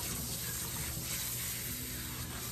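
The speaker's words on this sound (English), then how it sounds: "So this is what it's like to wash my hair." Water runs steadily from a faucet while hair is being washed, a continuous broadband hiss with slight splashing, close and fairly even throughout, with no talking.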